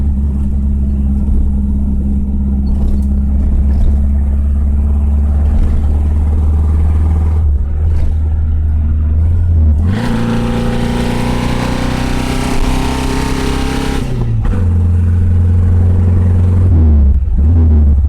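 A 1974 Saab Sonett's small engine hums low and steady, then rises in pitch as it accelerates through the gears. The drone is loud and close, with a brief surge midway before it settles again.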